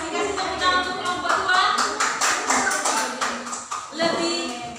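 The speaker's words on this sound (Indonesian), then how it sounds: "Kasih tepuk tangan untuk kelompok" A classroom of students applauds a student group, with dense, steady clapping from many hands that holds at an even level for several seconds before thinning slightly, close and lively with faint voices mixed in.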